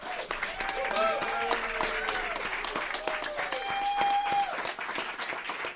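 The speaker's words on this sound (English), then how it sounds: "How about a big round of applause for the wonderful cast?" A theatre audience claps for the cast at the end of a stage show, a dense round of applause with brief tonal sounds and some voices mixed in.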